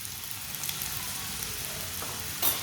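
A radish paratha cooks in oil on a pan, giving a steady close sizzle and hiss with a small flare of crackle near the end.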